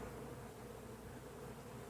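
Honey bees buzz at an open hive, a continuous close hum of many wings, steady and moderately quiet, with no talking.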